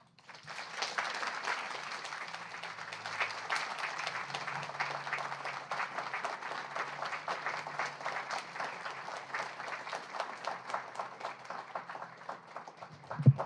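A crowd at a poetry reading applauds steadily for several seconds, dense clapping holding at an even level before tapering at the end.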